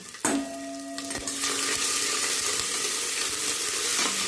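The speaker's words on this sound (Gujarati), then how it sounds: "અને ચમચાથી હલાવીશું." Undhiyu spices, crushed peanuts, sesame and ginger go into a hot cooker and are stirred with a spoon: a sharp clatter, then a rising steady sizzle with light scraping.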